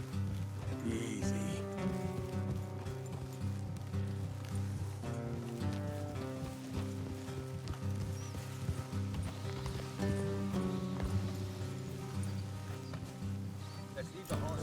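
Horses gallop in Red Dead Redemption 2, a quick, steady patter of hooves on the ground running under a continuous music score, with voices speaking over it.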